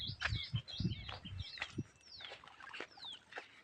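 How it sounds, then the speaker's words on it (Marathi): Birds on a farm where pigeons are kept in special nest boxes: quiet, scattered chirps and short whistled calls come and go over a soft background, with a few low rustling bumps early on. "कबूतर पण आहे इकडे, त्यांच्यासाठी स्पेशल घरटे पण बनवलेले आहे."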